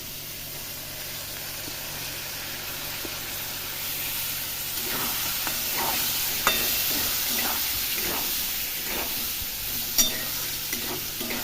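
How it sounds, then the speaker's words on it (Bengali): Peas being stirred in a frying pan, with a steady loud sizzle and hiss and repeated scraping stir strokes under it. "মটর দিয়ে ভালো করে নাড়াচাড়া করে নিই।"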